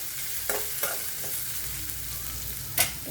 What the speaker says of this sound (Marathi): तर छान असं परतून घ्यायचं मस्त, कारण खूप छान होती भाजी काकडीची.